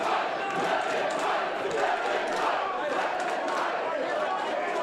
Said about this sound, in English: You hear the crowd. They want this fight to keep going.